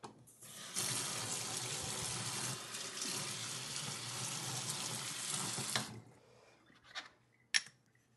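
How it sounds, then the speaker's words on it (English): A razor honing stone from the Shapton range is rinsed under a running tap, a steady rush of water into a sink lasting several seconds, followed by a few drips and handling knocks once the flow stops. "I'm going to rinse."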